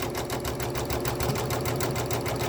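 An embroidery machine at 400 stitches per minute stitching a quilt in a magnetic hoop, pushing over thick seams with a close, rapid, even chattering rhythm that runs without a break.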